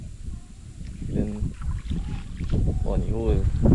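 A 16-horsepower boat motor runs on the water in Trinidad, giving a steady low engine drone with wind noise while someone talks over it.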